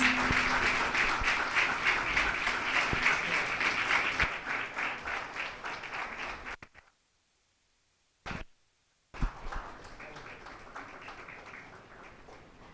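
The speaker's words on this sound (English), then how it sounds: "Please, a round of applause." Audience at a college of architecture convocation applauds an award winner, a dense steady round of clapping for about six seconds that fades out, then brief scattered claps and a second smaller burst of applause.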